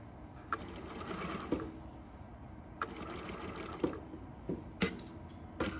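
A sewing machine stitches a French seam in short bursts of steady mechanical whirring, broken by brief pauses and sharp clicks, fairly quiet and close with no talking.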